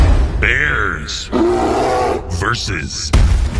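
A bear roars as a video game sound effect in a trivia quiz game, a loud, growling roar repeated in bursts with other effect sounds mixed in.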